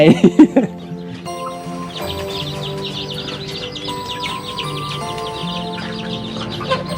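Chickens cluck and chatter continuously in the background, with a few sharp pecks at leaves at the start and a steady farmyard murmur throughout.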